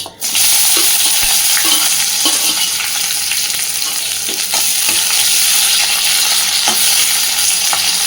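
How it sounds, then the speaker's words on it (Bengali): Chopped onion and slit green chillies frying in hot oil, producing a loud, continuous sizzle that bursts up right at the start, with scraping stirs and light knocks of a spatula. "এইবার দিয়ে দিচ্ছি পেঁয়াজ কুচি আর চেরা কাঁচা লঙ্কা"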